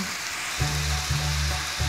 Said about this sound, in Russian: Далее отправляю в сковородку морковь